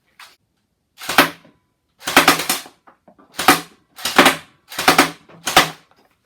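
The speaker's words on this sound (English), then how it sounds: "This thing's never been fired, don't know what it's going to do, but we'll just shoot at that." A modified Cyma M4 CQB gel blaster rifle fires shots at a target. About seven sharp, snapping cracks come at uneven intervals, loud and close, with near silence between them.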